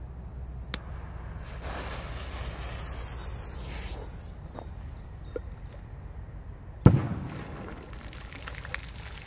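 A big firecracker bursts in a lake with one sharp, loud thump near the middle, then a short splashing decay, over steady outdoor ambience with birds chirping early on.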